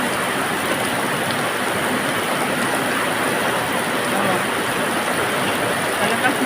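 Heavy rain pours down during flooding in Valenzuela City, a dense, constant hiss that stays loud and unbroken throughout, with no voices.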